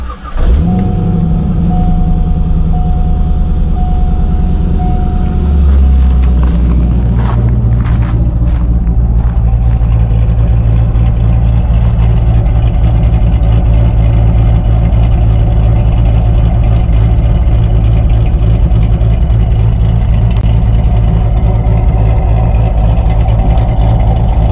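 A 2000 Chevrolet Corvette C6 V8 cranks and catches, then settles into a loud, steady, rumbling idle, heard up close from inside the car with no one talking.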